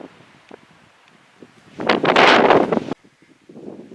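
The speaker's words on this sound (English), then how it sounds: "50-mile-per-hour winds, it's going to blow me into the canyon." Strong wind of about 50 miles per hour at the Grand Canyon, a loud gust roaring across the microphone for about a second amid quieter rustling and handling noise.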